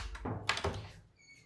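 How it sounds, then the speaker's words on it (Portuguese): A home bedroom door, held shut with electrical tape, opening with a couple of close, dull thunks and a short rattle, then quiet. "Deixa eu abrir a porta para mostrar a porta para vocês."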